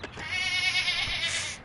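A single goat gives a clear, wavering bleat, close and moderately loud, lasting well over a second with no talk.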